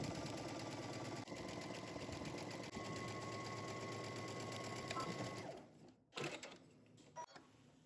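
A sewing machine stitches jumpsuit back seams at a 5/8 inch seam allowance from the hem upward, running loud and continuous for over five seconds before slowing and stopping with a few mechanical clunks.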